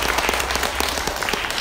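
A concert audience gives steady, dense applause in thanks to a performer at a Vietnamese anniversary show, a full wash of many hands clapping at once, continuous and fairly loud throughout.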